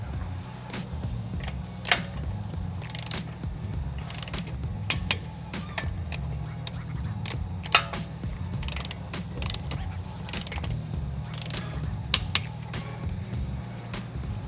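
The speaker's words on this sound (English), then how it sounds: "Final step, lug nuts, 90 foot-pounds." A wrench tightens lug nuts to 90 foot-pounds on an Infiniti G37 sedan wheel, making steady ratcheting clicks with occasional sharper clacks. The clicking is close and there is no talk.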